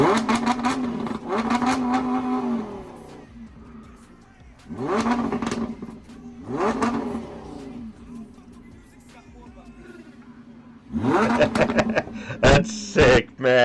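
A sports car in Corsa drive mode revs hard several times, each loud rising roar separated by idling gaps, then a final burst with sharp pops from the exhaust.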